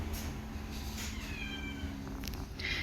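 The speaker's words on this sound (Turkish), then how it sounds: "İçeride de bir tane yaramaz yavru kedi var." Small, high-pitched kitten meows, a few short cries against a steady background hum, fairly close and faint.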